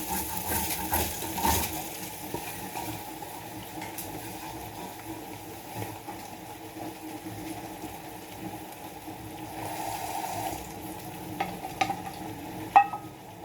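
About a full plate of mushrooms half-fried in a wok still oily from earlier frying, a steady soft sizzle running throughout with scraping stirs and a few sharp clinks of the utensil against the pan near the end.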